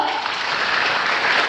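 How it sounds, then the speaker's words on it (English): A school audience at a speech event claps steadily, a dense even wash of applause at moderate loudness with no voices standing out, heard in a short continuous stretch. "So let's give them a round of applause as well."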